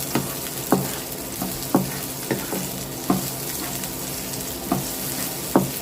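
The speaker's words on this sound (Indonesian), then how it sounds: "Kita aduk-aduk dan tumis bawang bombaynya hingga layu." Sliced onions sautéing in a pan, with a steady close sizzle broken by regular scraping clacks of a utensil stirring, no talking.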